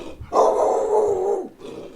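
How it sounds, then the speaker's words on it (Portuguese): Several large dogs let out one long, loud snarling growl lasting over a second, close and alone, with no barking heard. "deu de cara com 7 cães enormes que lhe arreganharam os dentes"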